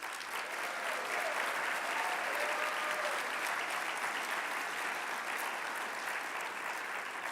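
A large audience at the J Street national conference breaks into sustained applause, a thick, even roar of clapping that holds steady and fairly distant, with a faint voice briefly audible beneath it.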